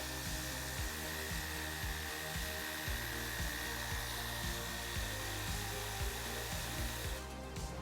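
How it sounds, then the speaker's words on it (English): A low pressure washer sprays a fine mist over a muddy bike, giving a steady, close hiss with a faint pulsing motor hum underneath and no talk. "this is a low pressure washer, so it's not as if it's putting a high stream of pressure on it"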